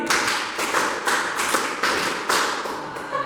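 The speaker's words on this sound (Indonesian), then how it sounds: "tepuk lima dua kali" Classroom group clapping in a counted rhythm, repeated bursts of sharp hand claps in quick succession, fairly loud and close with little talk.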